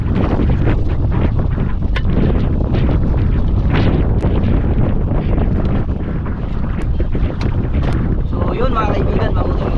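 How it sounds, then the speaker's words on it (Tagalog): Strong wind buffets the microphone aboard a boat at sea, a loud, constant roar with waves churning underneath and a voice faintly heard beneath it. "dahil malakas yung hangin na alon."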